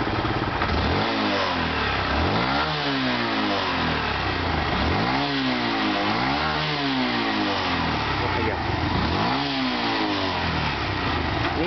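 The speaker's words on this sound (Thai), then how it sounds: "เดี๋ยวผมจะเร่ง เป็นรอบผมกด" A stock car engine fitted with a throttle booster box is revved repeatedly, with loud rising and falling sweeps of engine speed in several close pulls over a continuous running drone and no talking.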